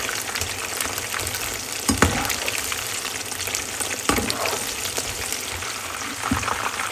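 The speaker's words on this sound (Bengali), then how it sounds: "জালটা কম দিয়ে ভেজে নিতে হবে, বেশ একটু ডিপ গোল্ডেন করে।" Food deep-frying in oil in a home kitchen, cooked to a deep golden colour: a continuous dense sizzle and bubbling hiss, close and loud, with a couple of brief stirring clacks and no talk.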